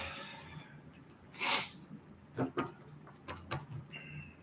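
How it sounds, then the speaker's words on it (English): A single sharp sneeze bursts out in a quiet indoor room, followed by a few soft breaths and small clicks. "I'm going to sneeze."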